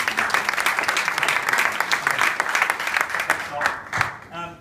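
Lively audience applause at a business presentation, with sharp individual claps standing out, tapering near the end as a voice begins speaking.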